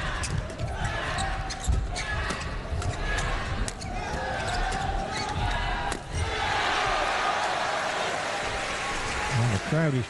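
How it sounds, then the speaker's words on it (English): Indoor arena crowd at a mixed doubles badminton quarterfinal at the 2014 Asian Games, a dense roar of cheering and shouting that swells and stays loud, with a commentator talking over it. "Crowd is cheering,"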